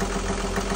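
A Perkins diesel boat engine idles at a dock after its fuel system has been bled, a steady close low rumble with even pulsing throb.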